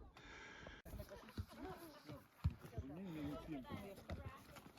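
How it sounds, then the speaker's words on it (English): Horse hooves clip-clopping at a walk on a mountain hiking trail, mixed with nearby voices talking over them and some background rustle. "there are more horses"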